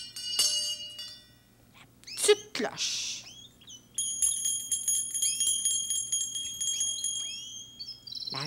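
After a few brief scattered noises, a small bell starts ringing near the middle and keeps going in rapid, bright, tinkling strikes, close and unaccompanied by speech.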